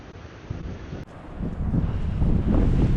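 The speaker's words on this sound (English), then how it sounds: "since it's still windy outside" Wind blows outside at a cold campsite, a rough steady rumble that swells and grows louder partway through, buffeting the microphone, with no voices.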